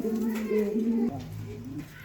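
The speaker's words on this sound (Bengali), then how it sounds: "এটা হলো রেসারের নর কবুতর আর এটা মাদি আর এই হচ্ছে তাদের বাচ্চা" A pair of racer pigeons with their chicks, giving a soft throaty coo that wavers for about a second, then a quieter low murmur, heard close with a voice faintly present.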